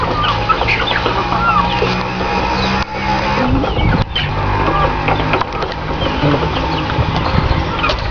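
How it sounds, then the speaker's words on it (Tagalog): A flock of chickens clucking and squawking continuously, loud and close, with other fowl noises mixed into a busy barnyard din. "Mga manok namin."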